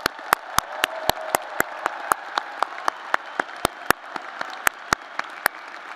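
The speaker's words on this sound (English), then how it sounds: "Let's give our students a big round of applause" Applause rises from the crowd at a 2019 business school commencement ceremony honoring graduating students. Dense, steady clapping runs the whole stretch, with sharp individual claps standing out near the front.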